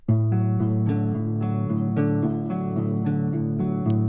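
Deep, pitched-down guitar notes ring out in a slow repeating phrase, the strings sounding dark and slightly wobbly.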